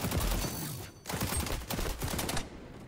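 Rapid bursts of automatic gunfire in a shooter video game, shots punching through a block, dense crackling volleys with a short pause near the one-second mark before firing resumes.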